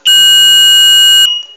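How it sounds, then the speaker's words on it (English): A Velleman infrared beam barrier alarm buzzes loudly and steadily, a single shrill electronic tone held for over a second before cutting off, with faint room noise after. "So anybody going in, breaking that beam, set the buzzer off."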